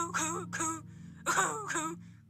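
A person imitates a cough vocally, producing a few short, voiced, throaty bursts up close.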